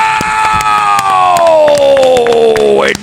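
Studio audience cheering and applauding for a nighttime comedy talk show host's entrance, a loud, dense crowd roar with whoops and claps sustained throughout, swelling slightly before cutting off at the end.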